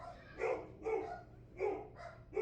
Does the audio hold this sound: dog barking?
yes